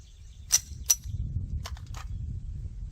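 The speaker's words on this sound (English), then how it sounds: "these are the 220s or 200 grain Hornady Black Subsonics" Hornady Black Subsonic 200 grain rounds fired outdoors, giving two sharp suppressed cracks in quick succession followed by fainter impact-like pops, all over low background rumble.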